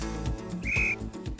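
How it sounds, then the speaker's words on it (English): A coach's whistle sounds a single short, bright tone at camogie training, heard over a busy background of low thumping and playing noise on the pitch. "A simple whistle."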